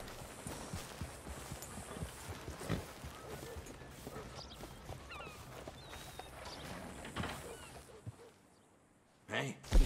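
A horse walks in Red Dead Redemption 2 with a steady, moderately close clip-clop of hooves over low ambient game sound. Near the end the hoofbeats fade into a brief quiet gap, then a couple of louder thumps follow.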